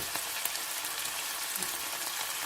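Tuna stirred in a frying pan while cooking for a miswa noodle dish gives a quiet, even sizzle with faint scraping and light ticking, fairly soft and continuous throughout.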